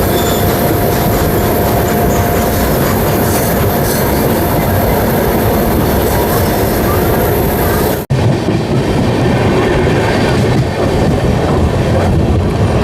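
A freshly overhauled, repainted WAP7 electric locomotive from the Visakhapatnam shed runs loud and close alongside, with a continuous roar of wheels and rails. A sharp break in the noise comes partway through.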